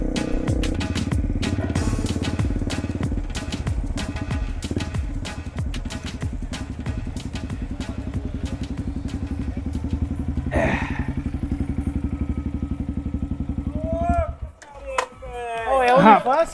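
Continuous rumbling motorcycle engine with rapid clattering pulses while riding to the Novo Paraíso village in the Xingu, ending as it stops and people start talking.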